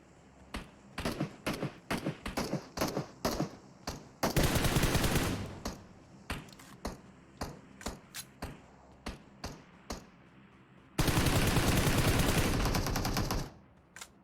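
Repeated single gunshots and two long bursts of automatic fire in the mobile battle royale game PUBG Mobile, loud and close, with evenly spaced shots between the sustained volleys.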